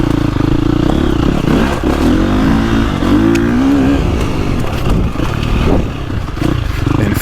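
A KTM dirt bike fitted with an Akrapovic exhaust and spark arrestor revs loud and close, the engine note rising and falling with some mechanical clatter.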